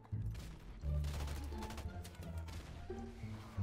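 Repeated gunfire from a regular gun in a video game, a loose string of bursts with a few heavier hits, steady and fairly loud in the foreground with a voice briefly audible underneath.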